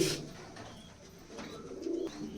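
Pigeons of a slender-bodied, medium-sized giribaz breed coo in a loft, a few low murmuring calls rising near the start and again toward the end over a steady background hum.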